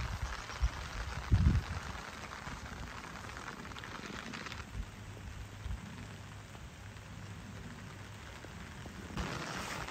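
Steady rain falling on a farm, a continuous soft hiss of drops on surfaces with a few louder close taps and thumps, no talk.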